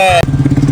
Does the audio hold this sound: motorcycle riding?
yes